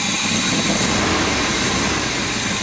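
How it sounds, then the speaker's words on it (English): An old fire truck engine idles very low on a hot day, giving a loud, constant, close-up rumble with a broad roaring hiss and no change in pitch. "A very low idle."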